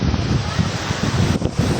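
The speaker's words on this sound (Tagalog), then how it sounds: "Talagang malakas ang hangin." Strong wind at the sea roars steadily across a microphone, with a low rumbling surf of big waves underneath, loud and continuous throughout.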